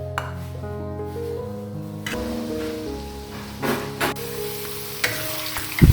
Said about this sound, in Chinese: 首先是炸马铃薯